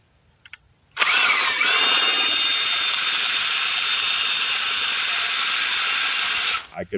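An electric drill powering a homemade 32-foot pole saw whirs steadily at high speed for several seconds after a few clicks, then winds down and stops.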